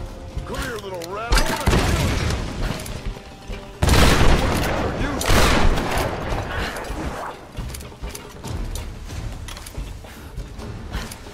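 Gunfire in Tomb Raider (2013), with bursts of shots and mechanical clatter ringing out during a tense fight, mixed with shouted voices and a heavy impact around the middle.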